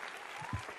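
Looped applause sound effect, a brief burst of dense crowd clapping at moderate level, with a low thump partway through.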